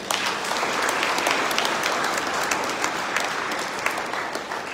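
Steady applause from a church congregation during Sunday Mass, a dense wash of many hands clapping at even volume throughout with no speech over it.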